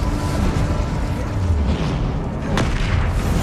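Incendio fire spell cast in Hogwarts Legacy, a dense roaring whoosh of flame with a low booming rumble and a brief burst near the end.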